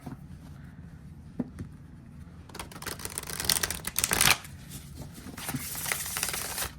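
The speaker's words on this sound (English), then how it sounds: "I love the shuffle." Tarot cards are shuffled up close in quick riffling bursts, crisp fluttering clicks building to a dense rush, then lighter shuffling continues.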